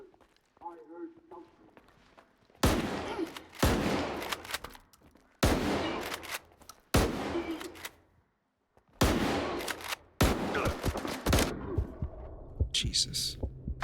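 Shotgun blasts from the game S.T.A.L.K.E.R. 2, several loud, sharp bangs at uneven intervals, each with a decaying tail, spread over background game sounds; no talking during the shots.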